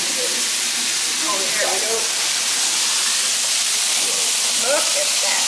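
Steady loud hiss of food sizzling on a hot plate in a restaurant, with faint voices briefly heard underneath.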